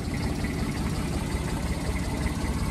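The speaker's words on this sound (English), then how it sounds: "powered by the ever reliable Kubota engine" Kubota engine on a 2011 JCB VMT160 80 roller idles in a steady, dense rumble, close and unvarying with light vibration, and nobody speaks.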